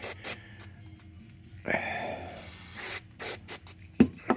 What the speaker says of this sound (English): I'm going to put it on its side and spray those.